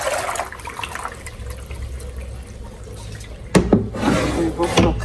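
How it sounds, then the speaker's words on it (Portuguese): Dye water drains from a basin while jeans are being dyed black, a steady watery rush that swells into louder gurgling splashes near the end. "Agora eu vou soltar essa água."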